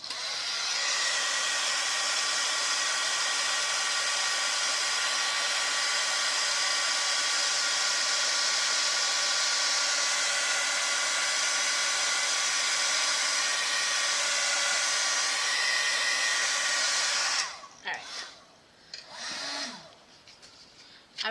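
A heat tool blows a loud, steady, close roaring whoosh for a long stretch while drying ink over a scorched timber ink layer on card, then cuts off, leaving faint handling noises.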